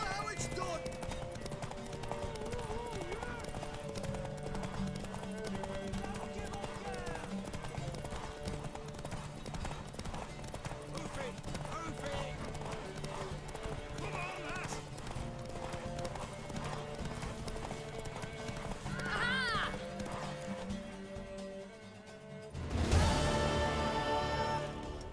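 Hoofbeats of a horse in The Witcher 3 video game pound in a steady clip-clop rhythm under a dense game score, with a neigh, brief talk and a sudden loud burst near the end.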